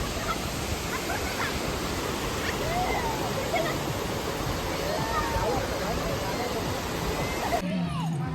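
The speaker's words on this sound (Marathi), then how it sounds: "आलेला आहे धबधबा" A waterfall near a mountainside roars in a steady, broadband rush that fills the whole clip, with distant voices murmuring faintly beneath it before the sound thins briefly at the end.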